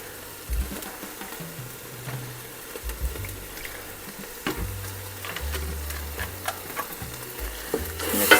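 A Thai coconut curry soup is stirred in a new pot on the stove, a spoon scraping and swishing through the liquid with soft bumps and a gentle sizzle, close and steady with no talking.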